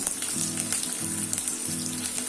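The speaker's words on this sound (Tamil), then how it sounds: "நல்லா ப்ரௌனிஷா ஆற மாதிரி வதக்கிக்கலாம்" Onions and dried red chillies frying in a pan of oil for a pori egg dish, giving a soft, steady sizzle with faint crackles and some quiet low clatter, no voices.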